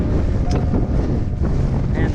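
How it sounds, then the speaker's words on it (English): A strong 50 mph wind buffets the microphone near Mount Eisenhower in the Presidential Range. Harsh, gusty roaring and rumbling fill the short stretch. "50-mile-an-hour winds."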